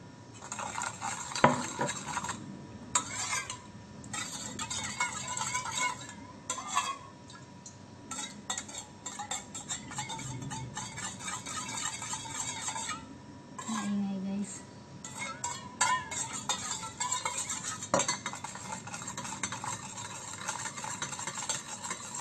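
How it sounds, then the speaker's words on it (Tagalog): Cold tofu dish sauce of soy sauce, oyster sauce and sugar being stirred in a bowl, with repeated light clinks and scrapes of a utensil against the dish at close range. "Mix natin mabuti para make sure na natunaw na yung ano niya, yung sugar."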